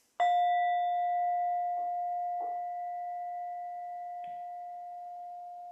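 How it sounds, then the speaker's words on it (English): A meditation bell struck once to close a practice session, a clear sustained ring that fades slowly over several seconds, with faint small knocks underneath. "And here comes a bell to signal the end of our practice."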